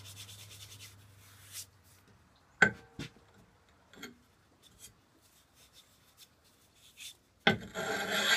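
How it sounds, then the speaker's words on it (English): Sharpening stone honing the bevel of a broad axe during a restoration, heard as sparse, scattered scrapes and dry ticks with quiet gaps, ending in a louder rasping stroke, close up and with no talking. "we're just trying to take off as much of this bevel in here that somebody ground in with a bench grinder as I can"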